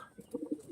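A brief, soft burst of low cooing comes from an open-tailed pigeon, heard alone and at a moderate distance.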